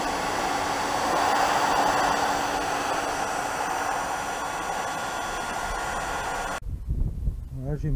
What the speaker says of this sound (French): Une fois chauffée, la peinture part mieux avec la brosse.